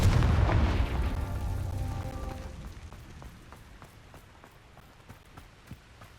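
A heavy Confringo blast spell booms in Hogwarts Legacy, a loud low explosion up front that rumbles and decays over several seconds into scattered faint crackles and debris ticks.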